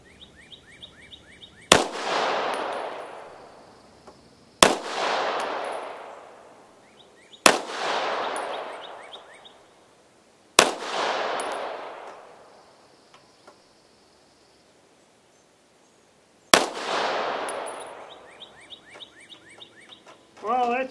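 Five sharp, loud gunshots from 7.62x20mm French Long cast-bullet reloads, fired across a chronograph at a range. The shots come at uneven intervals, each cracking hard and then ringing and echoing for a couple of seconds before fading.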